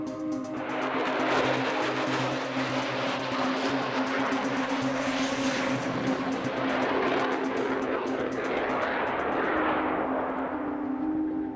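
Jet aircraft roaring past at speed during an air interception over France, a loud broad rushing roar that swells and stays heavy for several seconds with no talk.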